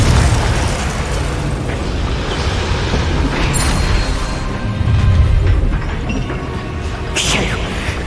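Repeated Confringo fire-spell explosions in Hogwarts Legacy give loud, continuous booming bursts over dense battle noise, swelling midway and cracking again near the end.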